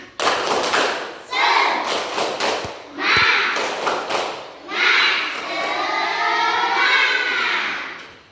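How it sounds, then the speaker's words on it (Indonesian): Children in a classroom perform a rhythmic clap-along chant before a lesson, sharp bursts of hand claps and thumps alternating with their chanting voices in a lively pattern. "Sebelum belajar, kita tepuk semangat dulu."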